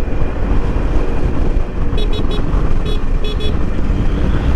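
A loud motorcycle engine roars on the road amid heavy wind rush, with several short horn beeps sounding in two bursts over the continuous droning noise.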